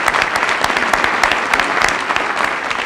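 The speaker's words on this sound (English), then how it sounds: "round of applause" Applause from a touchdown club luncheon audience greets a university athletic director, a steady dense wash of many hands clapping at close range for about three seconds with no talking over it.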